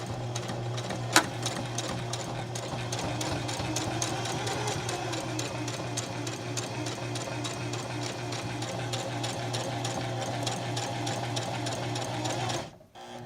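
A sewing machine hums and ticks in a steady rapid rhythm while reverse stitching fabric for a cellphone cozy, close and constant, stopping abruptly near the end.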